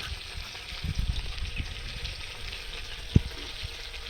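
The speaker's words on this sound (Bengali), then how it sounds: "পেঁয়াজ ভাজা চলছে আমাদের" Onions frying in a pan at an outdoor riverside picnic in the Sundarbans, a soft, steady sizzle heard from a distance with a few faint clinks and one sharp knock.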